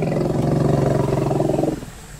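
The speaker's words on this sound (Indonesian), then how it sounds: "Tapi gajah juga dapat membuat suara rendah seperti ini." An elephant gives a low, throaty rumble, a pulsing growl held steady for about two seconds before fading out, with no talk.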